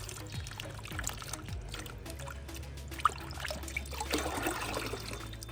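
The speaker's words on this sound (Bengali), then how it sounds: "এবার ফাইনাল ধোয়া চলছে।" Sweet potatoes are washed in water, with faint pouring and trickling, gentle sloshing and one sharp knock partway through, quiet and continuous.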